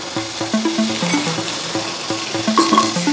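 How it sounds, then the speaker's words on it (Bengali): Bitter gourd pieces fry in hot oil with a continuous close sizzle. A distinct stepped electronic tone pattern repeats over the sizzle the whole time. "ঠিক একই রকমভাবে আমি উচ্ছেগুলোকেও ভেজে নেব।"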